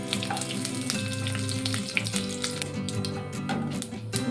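Mustard seeds and curry leaves sizzling in hot ghee, with a steady close frying hiss, a few sharp pops and faint clinks of a utensil against the pan.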